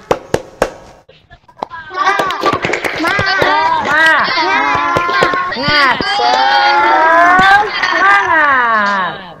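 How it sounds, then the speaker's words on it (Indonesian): Schoolchildren in a primary-school classroom perform a rhythmic spirit-clapping chant, sharp claps in patterned bursts mixed with loud, excited young voices chanting and shouting together after a few isolated opening claps. "mari kita lakukan tepuk semangat terlebih dahulu ya, agar semuanya tambah semangat"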